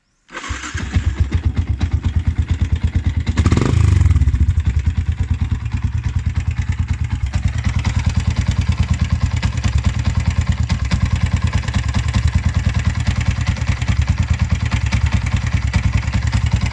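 A motorcycle fitted with a new UMA Racing AB8R31 iridium spark plug cranks and starts, then settles into a steady, loud, close idle with a rapid clattering pulse that carries on to the end.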